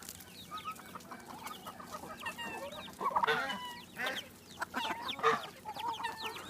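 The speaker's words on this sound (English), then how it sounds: "Here comes a few more chickens" A few farmyard chickens cluck and squawk nearby in uneven bursts, some calls louder and sharper than others, over a quiet outdoor background.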